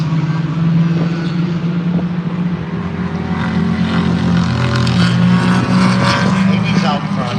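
Racing cars, a Lotus Cortina and a Mini, roar past in a continuous engine drone with rising and falling pitch, loud and fairly close, with a commentator talking over it.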